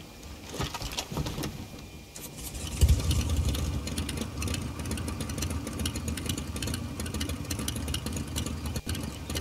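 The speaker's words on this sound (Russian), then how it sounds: "Прокатимся еще раз на этом мотоцикле." Video game motorcycle engine in Far Cry New Dawn: drone that builds and then holds a buzzing, revving tone, steady throughout with small fluctuations and an occasional click.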